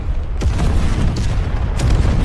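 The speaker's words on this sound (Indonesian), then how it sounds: "Mesin perang alien akhirnya meledak." Explosion of an alien war machine in a film, a deep rumbling boom with a sustained roar and a few sharp bursts layered over dense low-end noise.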